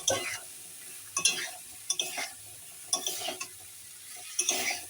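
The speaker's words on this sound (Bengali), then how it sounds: "কিন্তু এই রান্নাটা দিয়ে দিচ্ছি সজনে ডাঁটা।" Drumstick pods being stir-fried in a pan: a spatula scrapes and clinks in quick repeated strokes over a faint sizzle, fairly quiet and close by.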